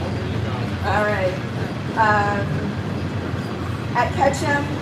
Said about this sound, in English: Hopefully it'll be a short train.